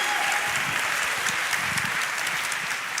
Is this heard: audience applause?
yes